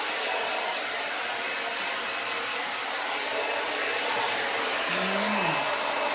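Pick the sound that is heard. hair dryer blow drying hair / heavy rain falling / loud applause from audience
hair dryer blow drying hair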